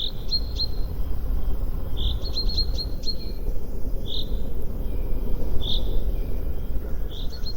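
Short, high chirping bird phrases repeat at intervals over a constant dense insect and cricket hiss, with a few seconds' pause between bursts.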